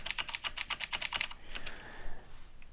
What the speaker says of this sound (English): It's too much typing.